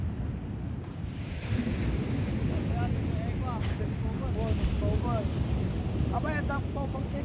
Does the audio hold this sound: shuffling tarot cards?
no